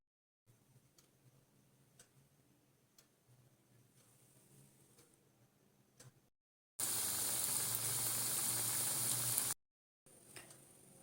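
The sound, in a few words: frying drumstick flower pakoras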